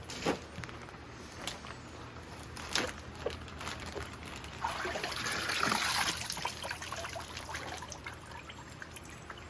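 Water trickling and dribbling out of a chicken carcass in uneven spurts, close up, with occasional soft knocks and handling sounds.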